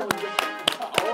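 Four sharp, evenly spaced claps ring out in a classroom during late-night study time, with voices chattering underneath.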